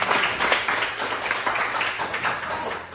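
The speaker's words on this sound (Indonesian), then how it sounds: "Tepuk tangan buat anak-anak kita." Primary-school children clapping together in their classroom, a continuous loud patter of many hands lasting a few seconds.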